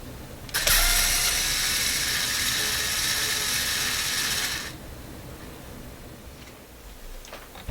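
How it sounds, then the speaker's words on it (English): Screws are being removed from a Sony ICF-2001 shortwave radio, a loud close ratcheting whir of a driver running steadily for about four seconds, then quiet handling with a couple of faint clicks. "lots of screws to remove here"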